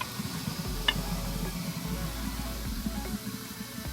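Baking soda and vinegar fizz inside a garbage disposal, a soft, continuous crackling hiss close by with tiny popping ticks throughout.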